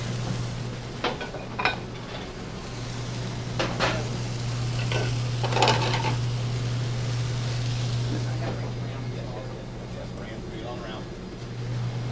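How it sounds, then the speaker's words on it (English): Mushrooms, garlic and shallots frying in hot margarine, a soft steady sizzle with occasional clinks of a utensil against the pan, heard under ongoing talk. "Add a little bit of margarine to it. Going to add some mushrooms, a little bit of garlic and shallots. Let those get nice and hot."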